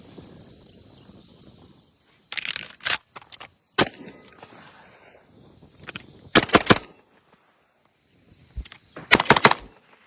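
An Orthos Arms Raider S4 semi-auto shotgun fired outdoors in fast bursts of two to four sharp blasts separated by pauses, with crickets chirping in the background between volleys.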